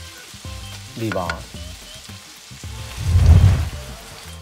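Four large tomatoes tossed into a hot frying pan for a Filipino kinamatis pork dish, a burst of sizzling and frying that swells loud near the end, with a brief spoken word and clinking before it.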